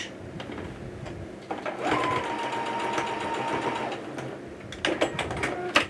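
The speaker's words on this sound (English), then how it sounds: "On the side seam, you're going to stitch down that seam right there." Sewing machine running steadily for about two seconds as it stitches down the side seam of summer shorts in the ditch, with shorter whirring bursts before and after, close and fairly loud.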